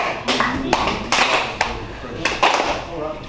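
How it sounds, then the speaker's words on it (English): A live audience claps along to a song at a peace event, sharp irregular hand claps and taps rising in bursts over steady voices and crowd noise. "All y'all got to do is just clap."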